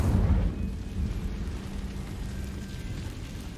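Incendio fire spell cast in Hogwarts Legacy: a deep, roaring burst of flame in the first half-second, then a steady low rumble that lingers to the end, with no voices.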